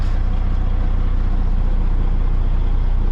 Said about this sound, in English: Well, would you looky that Ross even started the truck up for me